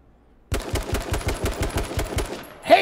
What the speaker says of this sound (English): You gotta just shoot off some bullets.